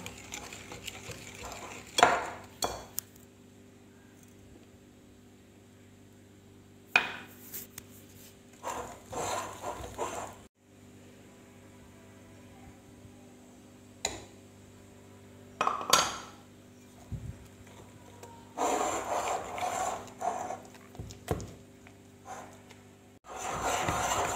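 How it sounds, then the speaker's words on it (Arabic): Cake batter of flour and baking powder being stirred by hand in a bowl with liquid cream and butter, scraping and clinking bursts from the utensil against the bowl coming in irregular spells between quiet pauses. "نخلطو غير بالعقل باش نزيدو لا كريم ليكيد والزبده تاعنا"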